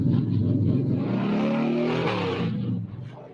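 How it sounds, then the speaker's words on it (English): A NASCAR truck engine revs loud and close, rising in pitch as it climbs through the revs before dropping away near the end. "George, that's a NASCAR truck, and we're going to be driving that thing today"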